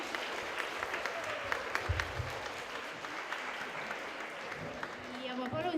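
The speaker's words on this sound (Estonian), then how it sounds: "suur aplaus veel osalejatele" Audience applause for performers at a school family day, a steady wash of clapping from a crowd filling the room for several seconds without pause.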